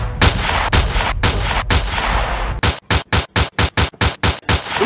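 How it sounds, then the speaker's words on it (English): Staged gunfire at a festival show at Wakayama Castle in Japan: loud close blasts, a few spaced shots, then a rapid rhythmic volley of about ten sharp bangs. "Or we gonna shoot ya!"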